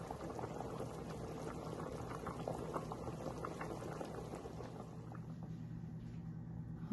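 Chicken noodle soup boils steadily in a pot, a soft continuous bubbling and gurgling with fine popping texture, quiet and close, with no speech.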